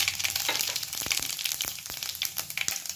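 Mustard seeds and cumin frying in hot oil for a ridge gourd and chana dal curry, with a dense crackling sizzle full of small rapid pops, close and steady throughout.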